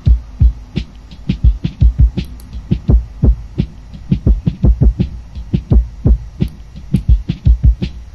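A hip-hop beat made in Serato Studio and played back with Ozone mastering processing switched off, with punchy bass-heavy kicks and crisp snares and hats in a steady groove, loud and continuous with no talking.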